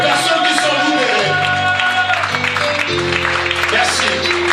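A church congregation applauds God during a worship service, sustained loud clapping and crowd noise mixed with organ or keyboard chords underneath, continuous throughout.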